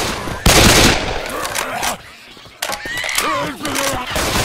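Bursts of automatic gunfire from the zombie shooter Left 4 Dead 2 crackle loudly and up close, with pauses between volleys while voices shout over the shooting.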